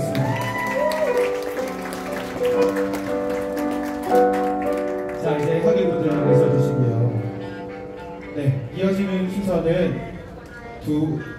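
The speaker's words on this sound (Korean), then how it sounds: "박수 부탁드리겠습니다" Applause from the guests at a wedding ceremony, steady and fairly close, mixed with an emcee speaking over it and music with singing running beneath.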